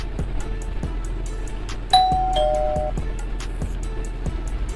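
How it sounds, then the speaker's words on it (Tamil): A doorbell rings in the video game GTA 5, giving a clear two-tone ding-dong chime up close over a steady ticking, rhythmic game background, and no voices. "ஸோ காலிங் பெல் அடிப்போம்."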